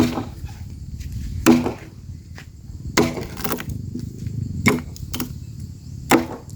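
An axe bites into a wooden post to cut a notch, sharp woody chops landing about every one and a half seconds, five strikes over a steady outdoor background hum.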